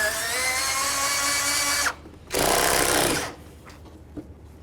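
Power tool whirring steadily as it removes the bumper cover mounting bolts beside the headlight on a Lexus GS300, a sustained buzzing run that cuts off briefly, resumes for about a second, then gives way to quiet handling clicks.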